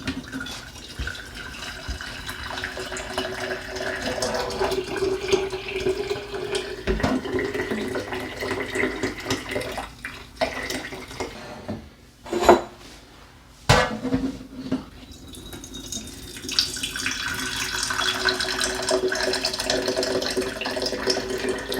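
Finished maple syrup pours and trickles into bottles, with steady liquid flow punctuated by clinks and knocks of glass and metal containers, fairly close and alone without talk.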